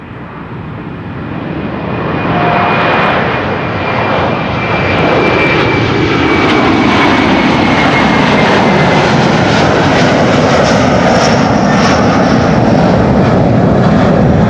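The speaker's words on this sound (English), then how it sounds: "And the A350 is about to move onto the runway." An Airbus A350, registration 821 November Whiskey, first flown October 2006, takes off from Schiphol's Kaagbaan runway 24. Its engine roar builds from the start into a loud, sustained, broadband thunder that holds steady to the end.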